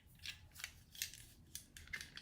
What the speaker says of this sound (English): Now we're going to take our corner rounder.